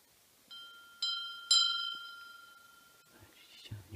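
Small bell in an abandoned church struck three times about half a second apart, each ring bright and clear with a long metallic shimmer decaying alone, followed by faint rustling and handling noise.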